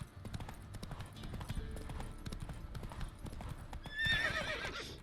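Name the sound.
horse Roach galloping, from video game The Witcher 3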